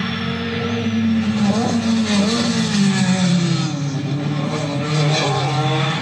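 A Renault 5 Turbo rally car engine revving hard and accelerating close by, its pitch climbing and shifting through short gears in a loud continuous roar.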